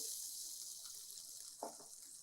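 A steady hiss of drumstick cooking water pouring into a pot, with a short splash near the end, fairly faint and close by.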